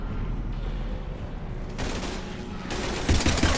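Mass Effect 3 gunfire crackles in sustained bursts over a deep rumbling background, with a burst near the middle and a heavier, louder volley toward the end, dense and close.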